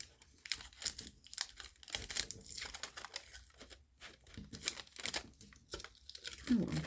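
Sticky backing film being peeled off a diamond painting kit, giving bursts of crinkling, crackling plastic and tearing sounds close up, with brief pauses between pulls.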